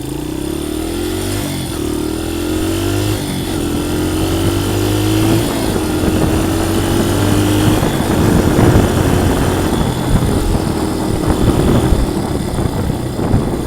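A dirt bike engine revs steadily up through the gears, its loud buzzing drone rising in pitch with each shift and dropping back briefly between them, heard close and continuous with no talk.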